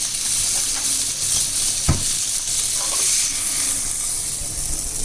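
Herb-coated fish sizzles steadily on a grill, a bright continuous hiss with occasional crackles and a sharp clank as it is lifted off, no talking.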